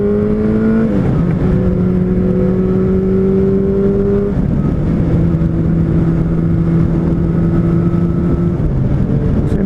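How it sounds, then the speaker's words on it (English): A Yamaha FZ8N motorcycle engine pulls hard in second gear, a loud close steady whine climbing in pitch with brief dips at shifts, running alone without speech. "Nice acceleration in second gear."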